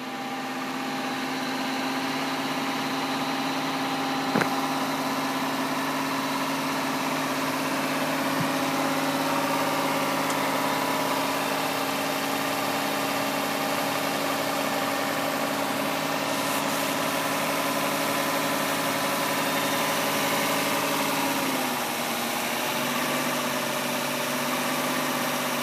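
A Chrysler Pacifica's 3.5 engine idles quietly and smoothly, a steady even hum with a faint mechanical whine that holds unchanged throughout, heard close with no talking.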